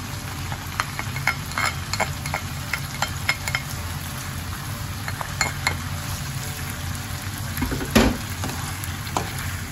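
Pork being stirred with bagoong in a hot pan, with a constant loud sizzle and frying hiss, repeated scraping and clinking from the utensil against the pan, and one sharper knock near the end.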